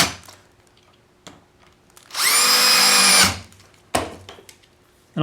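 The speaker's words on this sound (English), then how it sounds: "I screw the other spacers up against there to lock her in place" A power drill drives a screw into a wooden spacer, one loud whirring burst of about a second amid quiet handling knocks of wood.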